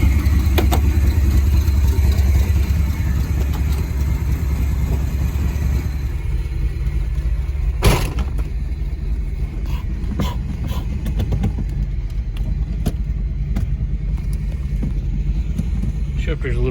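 A 1994 Pontiac Sunbird engine running steadily during a test drive, a loud continuous mid-pitched drone with a bump near the middle, heard from inside the car.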